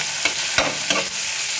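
Onions frying in a pan for Maggi noodles, a loud continuous sizzle with three quick scraping strokes of a spoon stirring them.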